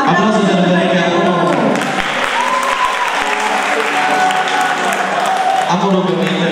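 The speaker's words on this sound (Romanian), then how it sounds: "Aplauze de la perechea 1" Loud, sustained applause from a live audience at a Dragobete celebration in Petrila, a dense clapping roar that carries on without a break, with voices faintly underneath.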